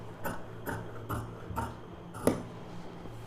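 Scissors cut blouse fabric for a design neck lining, giving about five evenly spaced, crisp snips up close with a faint hum beneath.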